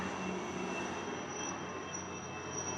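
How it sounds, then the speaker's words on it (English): A steady, droning engine roar from a helicopter overhead, constant and fairly distant, with a faint whine on top and no talking. "That's a helicopter."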